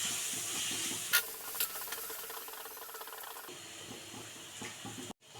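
Spice powders, including turmeric, stirred and fried in a pan for a fish dish: a close, steady hiss and sizzle with a few soft scraping stirs, ending in a sudden cut.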